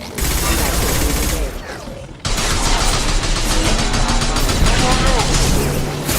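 Sustained gunfire in the video game Mass Effect 2 Legendary Edition, a loud continuous barrage of shots that drops out briefly and then resumes with equal intensity, with no voices over it.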